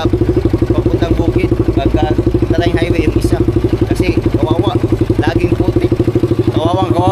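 A motorcycle with its exhaust pipe removed runs at a fast, loud, rattling putter, steady and close throughout, with clattering mechanical noise and some talking in the background.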